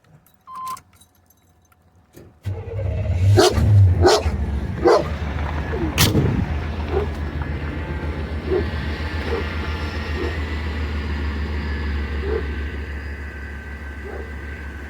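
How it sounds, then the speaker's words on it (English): A vehicle engine starts after a brief jingle and settles into a steady, loud idle, with a few sharp knocks and clanks over the hum. "Now, as she idles, she'll idle up a little bit more."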